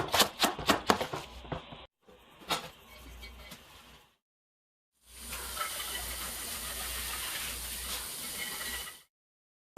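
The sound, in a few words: potatoes boiling in a pot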